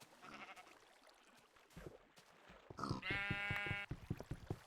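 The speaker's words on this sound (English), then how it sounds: "Oh, there's some more sheep that have spawned. Oh, lots of sheep." Blocky Minecraft sheep bleat in a loud, harmonic baa near the end, a couple of shorter bleats and soft game noises before it, with no talking.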